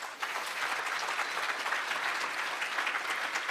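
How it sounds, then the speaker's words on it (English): Conference audience at ShmooCon 2013 applauding the staff, a dense, steady roar of many hands clapping at close range, sustained evenly for the whole stretch without a break. "can we get a big round of applause for all of them?"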